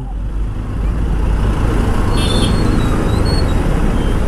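Steady road traffic rumble with cars and other vehicles passing nearby, a dense low-heavy wash that stays constant throughout with a few faint high tones above it and no clear speech.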